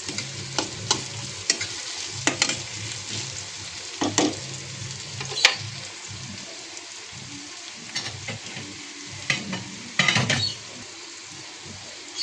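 Tomatoes fry in a pan for a dry cluster-bean dish, a soft steady sizzle broken by sharp, irregular clacks of a spoon stirring against the pan, with no voices.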